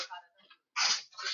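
A single sneeze bursts out nearby in an office or classroom setting, a sharp loud blast after some quieter speech-like sounds at the start, trailing off briefly.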